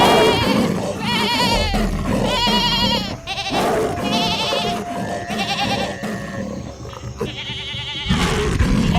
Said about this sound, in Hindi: अचानक बकरियों की तेज मिमियाहटों और रियाहटों से हवा चीख उठी।